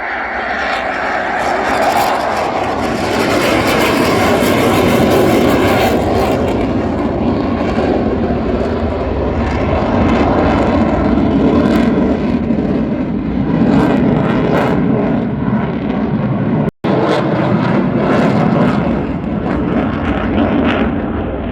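A jet aircraft roars loudly through its takeoff at the Royal International Air Tattoo air show, a dense, sustained engine rumble and blast that holds steady for the whole stretch before easing slightly near the end.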